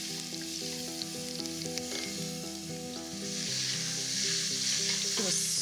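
Fennel and onion sizzle steadily in olive oil in a pan as the base for an octopus dish, a continuous close frying hiss with occasional stirring, joined by background music.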